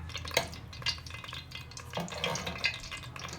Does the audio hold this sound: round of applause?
no